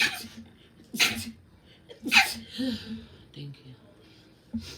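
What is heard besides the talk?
sneeze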